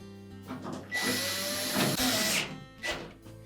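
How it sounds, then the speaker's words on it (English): A power drill drives screws into the spinner support on a Whirlpool washer during repair, with a loud sustained whir starting and stopping in a couple of bursts at close range. "we'll install the longer screws at the top"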